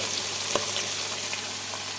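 Ginger, chillies and curry leaves frying in oil in a pan give a steady, even sizzle throughout, with one brief soft tap from a utensil near the start.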